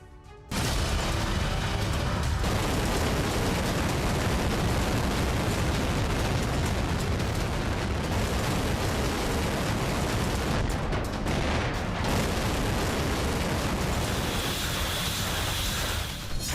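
North Korean ballistic missile launch: a loud, sustained broadband roar that holds steady for the full length with no pauses and no voices.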